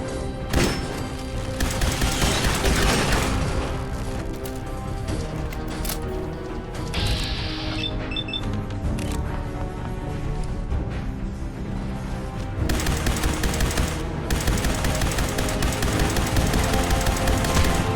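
Automatic gunfire rattles continuously in a free fire zone in the Fallout 4 video game, dense bursts running loud and close the whole time over a busy game soundscape with mechanical clatter.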